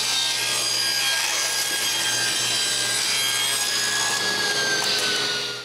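A saw in a woodworking shop cuts wood blocks for a nine-drawer dresser, giving a loud, continuous, close whine and rasp through the wood with no talking.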